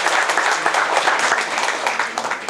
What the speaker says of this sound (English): please, let's give them a round of applause and support